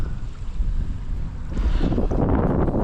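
Strong wind buffets the microphone outdoors on a bass fishing boat, a loud, rough rumble that swells and gusts, with water splashing near the end.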